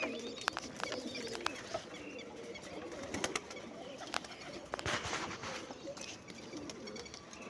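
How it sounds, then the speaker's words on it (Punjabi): Colourful village pigeons coo softly at a distance, a few sparse calls and faint chirps over quiet outdoor ambience. "ਦੇਖੋ ਬਾਈ ਕਬੂਤਰ ਉੜਦੇ ਰੰਗ ਬਰੰਗੇ ਕਿਆ ਸੋਹਣੇ ਲੱਗਦੇ ਆ ਪਿੰਡ 'ਚ"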